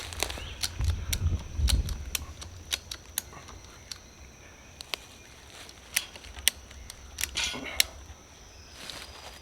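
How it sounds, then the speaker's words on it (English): A ratchet strap is tightened on a ladder stand, giving a series of crisp, irregular clicks close by over quiet outdoor background, with some rustling handling noise early on. "Now you can ratchet everything down."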